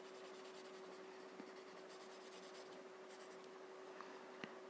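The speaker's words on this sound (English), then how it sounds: "So use your chalk pencil and highlight the other half of your bronx chair flowers if you wish to." A chalk pencil scrapes across paper while zentangle flower shapes are highlighted, a steady close scratching rubbing with short strokes and no talking.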